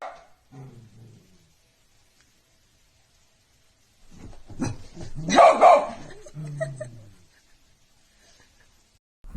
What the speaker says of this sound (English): Rev's jump scare in the lobby, freaking dogs out and makes them go nuts